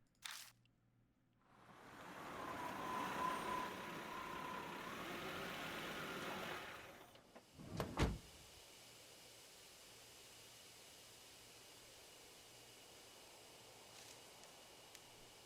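A car engine in the game Spirit Hunter: Death Mark idles with a soft steady rumble for several seconds, then cuts off with a brief clunk, leaving a faint quiet background.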